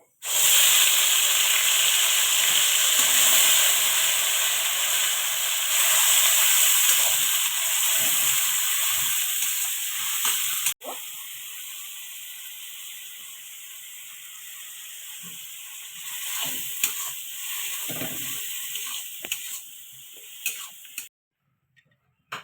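Ground onion paste sizzles in a pan for chicken curry, giving a loud, steady hiss that drops in level partway through and thins out with faint ticks near the end.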